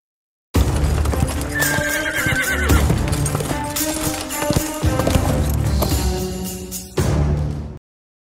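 Horse hooves clip-clop along while a horse neighs, layered over music and game effects in the video game Final Cut: Fade to Black, loud and continuous throughout.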